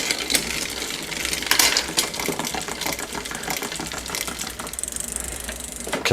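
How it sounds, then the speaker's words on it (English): On a Trek bike, the rear derailleur's top pulley wheel rubs the chain against the big rear cog, making a continuous close rattling, ticking grind with irregular clicks. "the rear derailleur was making noise. The top pulley wheel is hitting the chain against the rear cog, the big cog"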